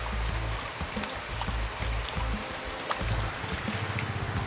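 Rain from a storm falls steadily on a small farm, a constant hiss with a low rumbling hum underneath and faint, scattered drips.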